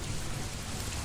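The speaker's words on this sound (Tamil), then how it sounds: "என்ன மழை மச்சான் இது?" Steady, dense rainfall hisses continuously, heavy and close, with a low rumbling undertone and no voices.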